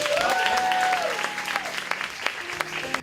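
Loud, dense applause from a concert audience that gradually thins into scattered claps before stopping, while a sustained musical tone carries underneath.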